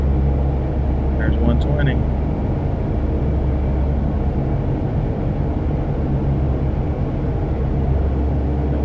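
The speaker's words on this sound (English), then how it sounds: "Full power to the engines." C-130 turboprop engines at full takeoff power, a loud steady low roar and drone filling the whole stretch, with someone speaking briefly over it near the start.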